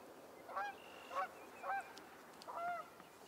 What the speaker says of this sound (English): Got some old geese squawking in the background.